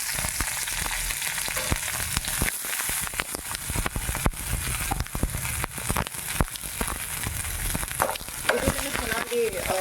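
Onions and other ingredients for tomato chutney roast in hot oil in a pan, giving a dense, steady sizzle with frequent scraping stir strokes, close and continuous throughout.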